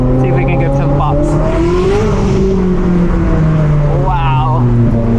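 Ferrari Speciale V8 fitted with a full Inconel exhaust revving hard up close, its pitch climbing and dipping in loud sweeps, with short crackling pops near the end and speech faintly underneath.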